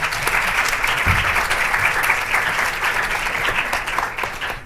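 Dense, loud applause from an audience at a university faculty event in Madrid, steady continuous clapping for several seconds, easing slightly at the end.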